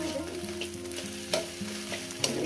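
Okra, eggplant and egg frying in a pan while being stirred, giving a continuous close sizzle with a few sharper scrapes of the spatula, and no voices.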